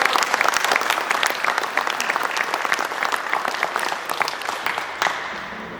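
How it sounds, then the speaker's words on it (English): An audience at a basketball defense coaches clinic applauds the players, a dense, steady clapping that fills the room for about five seconds before thinning out at the end. "give these players a round of applause"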